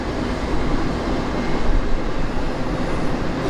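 CSX Q003 freight train heading west across a railroad bridge, its last cars rolling past close by with a dense, continuous rumble and rattle of wheels on rail, loud and steady throughout.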